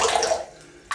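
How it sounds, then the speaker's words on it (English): Water squeezed from a wet shaving brush, a close splashy trickle that fades out, followed by a brief sharper splash near the end, with no voices. "give it a good squeeze. There's a little bit of water left in it."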